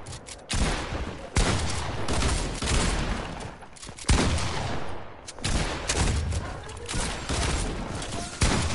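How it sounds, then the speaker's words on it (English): Dense, loud bursts of gunfire in the video game Fortnite, sharp repeated shots in irregular volleys filling the whole stretch, with brief gaps between salvos. "Why are they shooting at me?"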